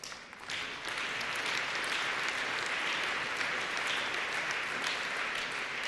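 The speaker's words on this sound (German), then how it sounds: "Applaus" Party-conference crowd applauding a political speech in a large hall, a sustained, even roar of many hands clapping at a moderate distance after a brief quieter start.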